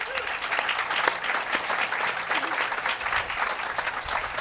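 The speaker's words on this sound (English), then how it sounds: "Please give a round of applause to the mayor as well." Audience applause for the mayor at a STEM building announcement, a steady dense wash of many hands clapping throughout, fairly loud and even with no break.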